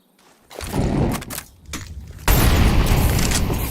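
A deep incendiary grenade bursts into flames during a Counter-Strike 2 match at the PGL CS2 Major Copenhagen 2024, a muffled boom followed by a loud, sustained roaring crackle amid gunfire and footsteps.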